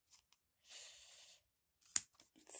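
Pointed scissors snip through a bundle of wool yarn while trimming a tassel, a few short dry cuts, with one sharp crisp snip standing out, close up and otherwise quiet.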